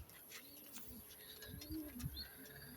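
Several pigeons coo softly in a loft, low throaty calls overlapping in a quiet, slightly noisy room with faint chirps and rustling in the background.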